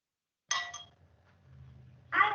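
A glass clinks twice, a bright ringing tap near the start and another at the end, with a low murmur in between, while an empty glass and a glass of water are set out for a class science exhibition experiment.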